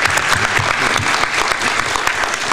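Loud, dense applause from a school board meeting audience fills the room for the marching band, steady clapping throughout with no pause.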